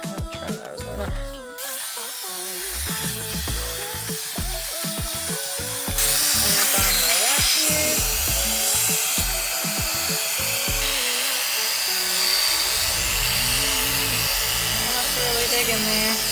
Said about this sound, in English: Oh, look at those nails. I'm gonna trim those.